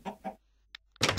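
A chicken in the video game Minecraft gives a pair of short clucks, a quiet pause, then another louder burst, all close and brief.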